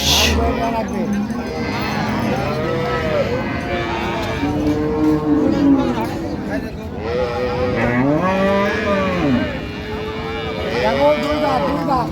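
Dairy cows and calves at a rural cattle market in Raniganj, Dinajpur, moo repeatedly in long, rising and falling calls, several animals overlapping amid a crowd's chatter and bargaining voices.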